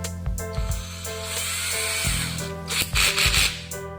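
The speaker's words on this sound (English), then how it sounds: "So I'm going to drill another hole right here in the body" A small power drill bores a hole through the plastic body shell of a toy-grade RC rally car, whining in short bursts that start and stop, with a longer steady run near the end, fairly close and moderately loud.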